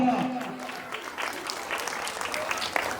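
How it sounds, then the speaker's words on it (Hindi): Loud applause rises from the audience at a school annual function, steady clapping over about three seconds with a voice speaking faintly at the start. "अपने शब्दों के लिए आप सबके सामने जोरदार तालियां"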